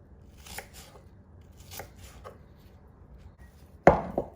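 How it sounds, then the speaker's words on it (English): A knife chops a red onion into small pieces on a board, a few soft crisp cuts spaced apart, then one sharper, louder chop near the end. "now I'm going to turn the onion just like this and just make small little pieces"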